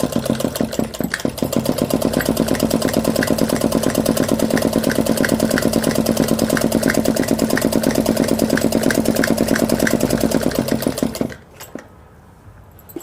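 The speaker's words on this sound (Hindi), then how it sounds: "अब इस पर ही हम सिलाई कर देते हैं इस तरह से।" Electric sewing machine stitching a 36-inch ladies suit, a steady fast mechanical whirr with rhythmic needle ticking running continuously for about eleven seconds before stopping abruptly, no talk.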